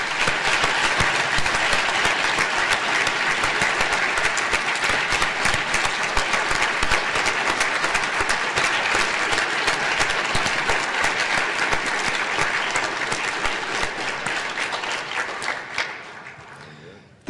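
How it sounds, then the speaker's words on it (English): Sustained audience applause for award recipients at a law school alumni awards reception, loud, dense clapping that holds for many seconds before fading out at the close. "Please join me in one last round of applause for our award recipients."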